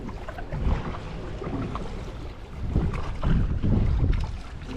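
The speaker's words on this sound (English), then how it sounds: "Yeah, good canoe stroke. That's digging, pal." Canoe paddle strokes dip and pull through river water on the New River, with soft, irregular watery swooshes under steady wind buffeting the microphone.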